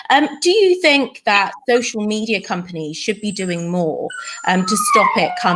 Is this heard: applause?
no